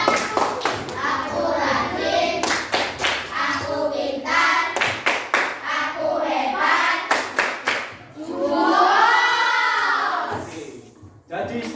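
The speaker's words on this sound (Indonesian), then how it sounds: "Kita tepuk kelas 5A lagi." A class of fifth-grade pupils claps a rhythmic patterned class clap in bursts of quick, sharp hand claps, with children's voices chanting between and over the clapping in a classroom.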